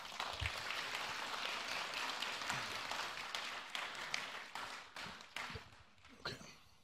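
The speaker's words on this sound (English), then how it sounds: "Please welcome them to the stage with applause." Audience applause welcoming panelists to the stage at a Helsinki seminar on Europe, a fairly soft, steady clapping from a modest crowd that thins into scattered individual claps toward the end.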